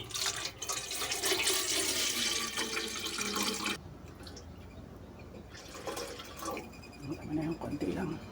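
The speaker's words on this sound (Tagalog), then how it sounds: "lalagyan muna ako ng tubig" Mineral water is poured into a pitcher indoors, a steady close splashing stream that fades partway through and resumes in shorter gushes.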